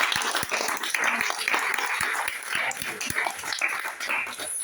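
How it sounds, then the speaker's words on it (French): An audience applauds at a literary prize presentation for author Abdelaziz Otmani: dense, steady clapping up close that continues for several seconds. "Bon, on va l'applaudir."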